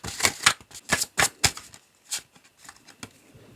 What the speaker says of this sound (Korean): 카드를 뽑아보도록 하겠습니다.